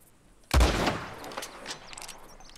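A gunshot in the video game Red Dead Redemption 2 lands as one sharp, loud blast followed by a long rolling echo that fades over about two seconds.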